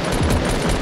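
Video game gunshots in a short, loud burst of rapid shots that run together densely, close and harsh, lasting under a second.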